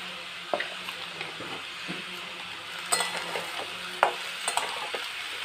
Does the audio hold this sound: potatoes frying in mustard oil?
yes